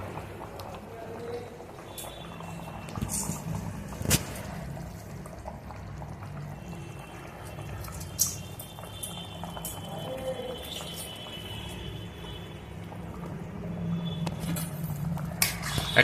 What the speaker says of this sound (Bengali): এখন মাংসটা ফুটছে।